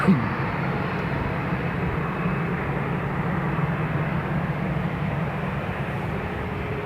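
A Ryanair airliner departing Dublin Airport gives a steady, loud broadband engine roar that holds evenly throughout, with no voices heard.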